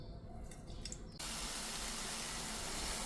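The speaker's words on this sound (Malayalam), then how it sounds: "ഇനി നമുക്ക് കുറച്ച് വെള്ളം ഇട്ട് കൊടുത്തിട്ട് വേവിക്കാം." Water pours into a pan of vermicelli: quiet drips and splashes at first, then a sudden loud, steady rushing pour that carries on to the end.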